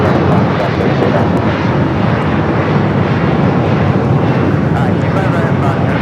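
A jet airliner takes off from runway 25 right at LAX with a loud, dense, continuous engine roar, accompanied by radio-style voices.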